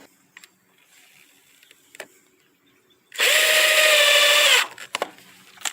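A power drill drives a 1/2 inch number 8 hex head screw into a downspout's 90-degree elbow, one loud, close whine lasting about a second and a half, framed by quiet handling clicks and taps.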